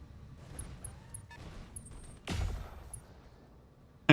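An ammo explosion on a BattleTech mech in a 3025-era game battle, heard as a loud burst around the middle of the clip plus a sharp blast at the end, with scattered weapon fire earlier.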